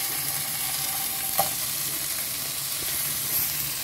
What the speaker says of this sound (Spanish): Esto va a ir sofriendo.